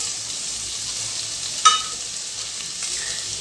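Thinly sliced onion sautéing in a pan with ginger and green chilli makes a loud, even sizzle throughout, with one sharp utensil clink partway through.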